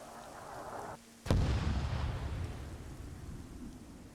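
A proton mortar fires in the Star Wars Trench Defense video game: one sharp, loud blast that goes off after a short hush, then a long rumbling decay that trails away.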